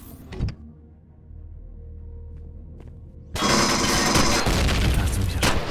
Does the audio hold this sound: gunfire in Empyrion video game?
yes